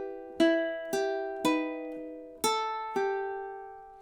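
Ukulele picks out phrase 26 of a song, five plucked notes in an even tempo with a gap before the fourth, close and soft with each note ringing out, no voice.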